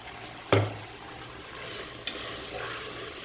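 Carrots tossed into a pan of chicken that has been frying for several minutes over a high flame, with a sharp thud as they land and a second smaller knock later over a steady, low sizzle.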